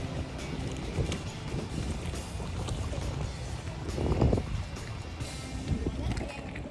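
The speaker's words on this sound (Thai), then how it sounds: "เรือกำลังเทียบทาค่ะน้ำลงค่ะ" A boat docks at a pier at low tide in Drøbak, Norway, with a steady low rumble and water wash under gusty wind noise and voices.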